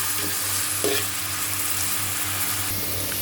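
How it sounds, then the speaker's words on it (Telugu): Chopped onion, green chilies and curry leaves fry with salt in hot oil, giving a steady, loud, close sizzle that runs the whole time, with light stirring and no speech. "దీనిలో కొద్దిగా సాల్ట్ వేసుకుని ఫ్రై చేసుకుందాం."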